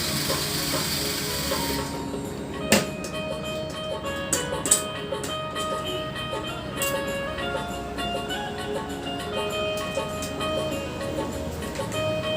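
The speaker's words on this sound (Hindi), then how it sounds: "हमने 6 स्क्रू जो ECM के थे वो हमने ज़्यादा से ज़्यादा 20 या 30 सेकंड के अंदर में ओपन कर दिए" A cordless rechargeable handheld screwdriver backs out the screws of an ECM, a steady whirring motor hum broken by a few sharp clicks, close and fairly even in level.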